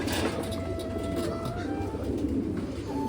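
Fancy pigeons coo at a pigeon farm in West Bengal, several soft throaty calls overlapping close by against a steady low background rumble.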